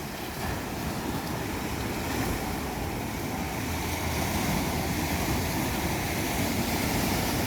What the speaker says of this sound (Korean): 파도 소리도 참 좋게 좋습니다